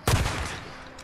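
A single heavy gunshot from Days Gone cracks out near the start and decays into a long rumbling echo, with faint background ambience afterward.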